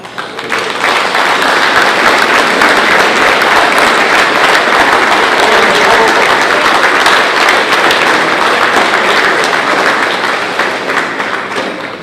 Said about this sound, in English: let's give everybody a round of applause on that